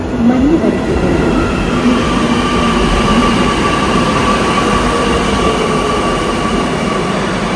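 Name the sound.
metro train arriving at the station platform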